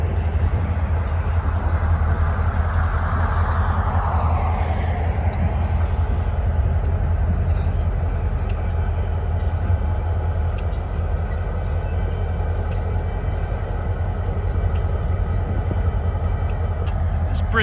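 A New York, Susquehanna & Western freight train on the Utica Branch near US 20 rolls in as a steady, heavy low rumble with a grinding mid-range wash, continuous and fairly close throughout.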